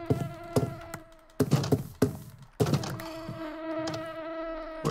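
A bee in a survival video game buzzes in close, high droning bursts, interrupted by sharp thudding hits as it is swatted at, with the buzz fading in and out between the impacts.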